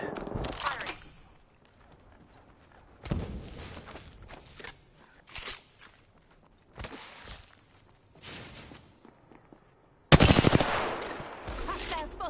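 Bursts of automatic gunfire in Apex Legends while playing Caustic, with several separated volleys and a loud final burst, mixed with footsteps and in-game voice lines.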